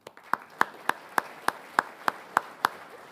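Sparse, faint applause for a speaker at a budget-practices conference, about ten separate claps at an even, slow pace, like a single person clapping in a quiet room.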